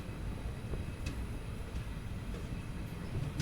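The Narsapur-Tiruvannamalai passenger train rumbles along on its inaugural run near Vellore, a steady low roar of wheels and carriages with faint clicks, heard from aboard.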